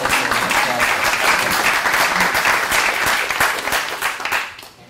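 Loud, dense applause from a conference audience of arts administration educators, sustained clapping that swells steadily and then fades out toward the end.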